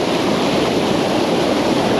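Rushing water at Anayadikuthu waterfall in Thodupuzha, Kerala, fills a short stretch with a loud, close, steady roar that never lets up, with no one speaking.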